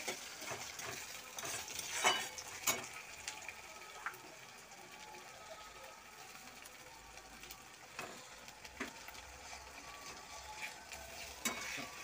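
Onion and tomato fry in a pan at home while a spoon stirs and scrapes, giving a quiet, steady sizzle broken by intermittent clinks and scraping strokes of utensil against metal.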